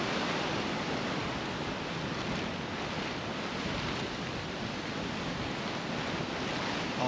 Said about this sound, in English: All kinds of windy out here.